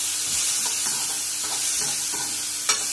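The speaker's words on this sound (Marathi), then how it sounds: "कांदा छान असं खरपूस भाजून घ्यायचं." Thinly sliced onions roast in a little oil with a close, even sizzle and soft scraping stirs over a few seconds.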